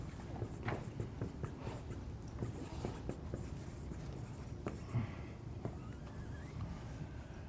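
Marker or chalk scratching on a board while working a partial fractions math problem, a run of short irregular strokes and taps, close and moderately quiet, with no voices.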